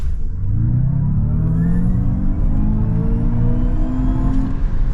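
A 2023 Kia EV6 GT e-AWD electric car launches hard uphill on a cool day, its rising motor whine and road roar climbing steadily and loudly through the whole pull, heard from inside the cabin.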